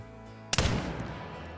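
A single loud muzzleloader rifle shot fired while hunting in the game Call of the Wild, a sharp crack at the reserve in Cuatro Colinas followed by a long rolling echo that fades over a second, with no talk.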